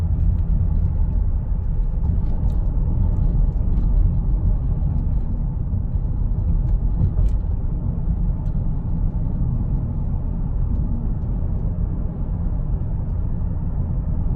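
A 1998 Lexus GS 400 V8 cruising at about 40 mph near 1200 RPM, a steady low engine and road rumble heard from inside the car, continuous and even with no talk.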